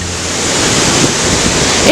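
The 104-meter tallest waterfall in Tasmania roars as a loud, continuous wash of falling water, with wind buffeting the microphone and a brief word spoken at the end.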